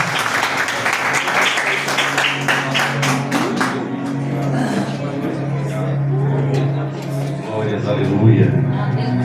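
Church members applaud, a burst of distinct claps at the start thinning into scattered clapping while a voice talks over it and sustained tones hum underneath.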